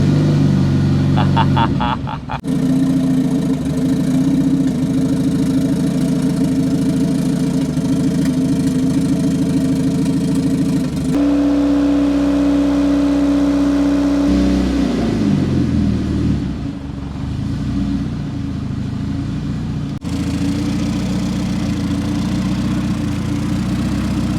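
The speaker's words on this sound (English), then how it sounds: "Car's running really good." Turbocharged 1992 Honda Civic EG hatchback engine running steadily just after its first start, a loud continuous rumbling idle with a shift in pitch partway through and faint voices under it.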